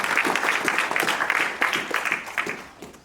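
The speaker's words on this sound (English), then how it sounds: "So a round of applause to them for all the steering committee members." At a town hall presenting a National Black Justice Strategy, the audience applauds the steering committee members. The clapping is lively and close at first, then gradually thins and fades toward the end.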